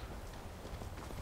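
Horse hooves clip-clopping in the Skyrim video game, a steady run of soft, fairly quiet hoofbeats under low background ambience with no talking.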